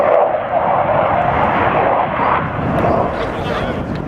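Sukhoi Su-27 Flanker jet at the Fairford 2017 air show, a loud, steady roaring engine rush that swells and fades slightly throughout, with someone talking over it.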